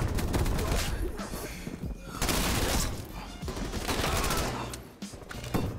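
A PPSh-41 submachine gun in Call of Duty Cold War firing long, dense automatic bursts up close, loud and sustained with brief breaks between strings of shots.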